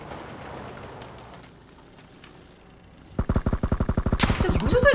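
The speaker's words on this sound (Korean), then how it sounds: "저 총소리 들리지? 저기 있다?" After a quiet stretch of ambient noise, a rapid burst of automatic gunfire in a video game erupts, loud and close, firing in quick regular shots.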